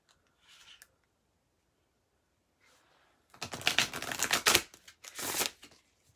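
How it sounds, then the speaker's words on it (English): A deck of tarot cards is shuffled close by, with a couple of soft brief rustles followed by two louder, sustained bursts of riffling card noise in an otherwise quiet room. "As soon as you let me know, I'll start shuffling"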